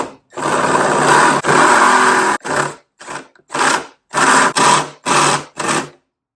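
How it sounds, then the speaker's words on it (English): A step drill bit cuts through thin sheet metal in a long, loud whirring run followed by five or six short, evenly spaced bursts of drilling with brief silences between them. "All I have to do is just continue drilling down until I reach the appropriate diameter that's on the step drill bit."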